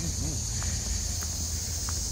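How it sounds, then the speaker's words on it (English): Cicadas in the trees at Historic Constitution Square make a steady, high-pitched buzzing drone that fills the air continuously, with faint rustling and a few soft tones underneath. "those cicadas like these trees"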